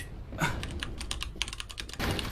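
Computer keyboard keys pressed rapidly while gaming, a quick run of close, crisp clicks and taps at a moderate level with no talking.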